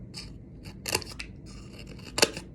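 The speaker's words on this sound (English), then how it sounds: "Then I'm going to cut out the toes" Scissors cut out painted paper toes in a few distinct close snips, quiet between cuts, with no talking.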